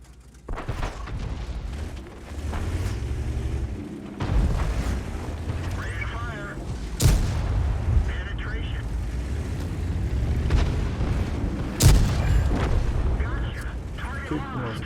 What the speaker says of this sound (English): The enemy just seems to be missing him when they're shooting at him now